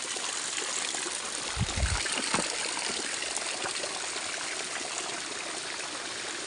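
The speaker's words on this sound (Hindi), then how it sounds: "उसमें से पानी गिर रहा है" Steady broadband rush of water pouring from a line of spouts at Gomukh Dhara, a hillside park in Nepal, continuous and fairly close, with a brief low thump partway through.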